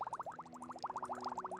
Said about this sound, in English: that bubbling noise is rather irritating